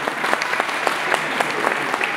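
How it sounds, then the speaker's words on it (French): An audience at a FIFe cat show gives a short burst of applause for a ragdoll cat, with scattered distinct claps forming a brief, moderately loud ovation. "Voilà, on peut l'applaudir."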